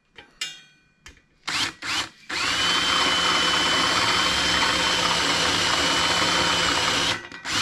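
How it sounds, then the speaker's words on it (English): A large power drill bores into the top of a rivet on a Schwinn bicycle rear fender, starting with a few short bursts and then running as a loud, steady whine for about five seconds. "we'll use this huge drill and just drill the top of the rivet"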